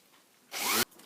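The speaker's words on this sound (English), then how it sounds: "I'll just put the sander on it. I like working with the sander." A brief burst of buzzing electric sander noise on felt, close and loud, lasting about a third of a second before cutting off abruptly.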